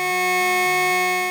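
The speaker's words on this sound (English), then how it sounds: "we're getting intense overtones with that." Tone from a free 8-bit sound maker with added harmonics, a continuous buzzy synthetic note rich in overtones whose low pitch steps back and forth, loud and alone.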